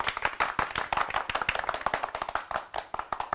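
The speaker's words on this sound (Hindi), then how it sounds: "तालियां" Clapping during a Hindi comedy show scene as a garland is placed, a dense burst of sharp, close hand claps in quick uneven rhythm, loud and without speech.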